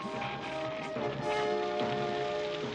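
Heavy rain pours steadily in a Smurfs cartoon, a dense, loud wash of falling water that fills the whole scene with little change, laid over a busy cartoon soundtrack.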